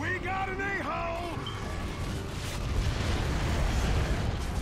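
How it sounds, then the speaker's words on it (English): Mortar strike explosion in Gears of War 3, a broad booming rumble that swells and lingers after an opening stretch of talk, with voices over the start. "Nice mortar strike, man."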